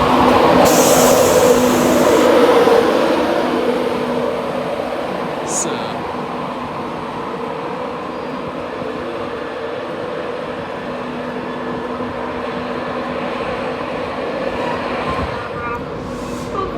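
Locomotive Bobby Robson pushes a train at Doncaster, a loud diesel rumble at first with a high whine and sharp squeal near the start, then settling into a steadier, quieter drone with a brief high screech at the end.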